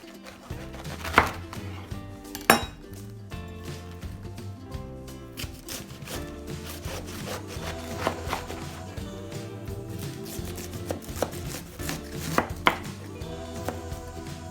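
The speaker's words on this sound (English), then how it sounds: "First thing I'm going to do is cut up this cabbage." A knife chops through cabbage on a cutting board for an Asian salad, with steady rhythmic cuts, a few louder thuds near the start and a busy run of slicing that continues throughout, close and clear.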